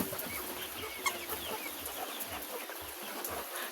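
White leghorn chickens on a small farm cluck in short, scattered low calls, quiet and close, with faint background noise and no talking.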